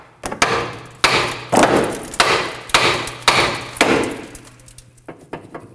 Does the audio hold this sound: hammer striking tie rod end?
yes